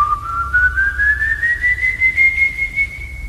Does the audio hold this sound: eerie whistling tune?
yes